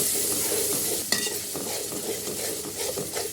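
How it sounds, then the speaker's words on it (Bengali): Spice paste is sautéed in a hot pan for a chicken and okra dish, giving a steady close sizzle with scraping stirs and a few sharper utensil knocks, and no one speaking. "মশলা এখন কষানো হচ্ছে ভালো করে"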